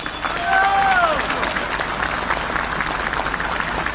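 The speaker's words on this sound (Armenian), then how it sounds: "Եվ ես ուզում եմ, որ մենք բոլորս բարձր ծափերով ողջունենք 10 եպիսկոպոսներին" An audience claps loudly and continuously to welcome ten bishops at a church reform gathering, a dense, sustained wash of applause with a brief whistle near the start.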